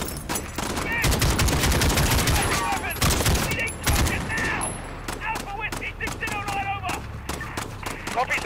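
Heavy AK rifle gunfire in Call of Duty, set in a London street firefight: sustained rattling automatic bursts and cracking shots keep up almost without pause, close and loud, with radio-style voices talking over the shooting.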